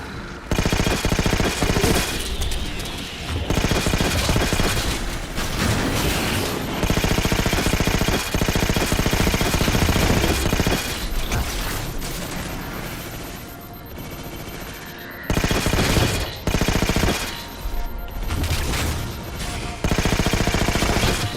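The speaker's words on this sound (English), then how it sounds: "Who's shooting at me?" Sustained enemy automatic gunfire in a Halo video game, dense rapid bursts of shots running nearly nonstop with brief gaps, loud and close.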